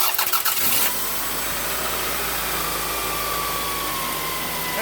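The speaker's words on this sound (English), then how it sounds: "this little thing that weighs less than my work boots just started that car" A car engine cranks with rapid stuttering turns from a Foxspeed jump starter, catches after about a second and settles into a loud, steady idle close by.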